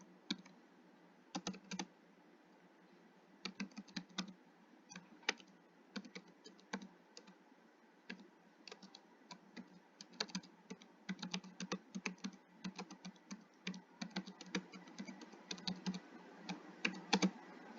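Code is typed into PyCharm on a computer keyboard, quiet irregular bursts of clicking keystrokes with short pauses between words, heard close and alone for about eighteen seconds.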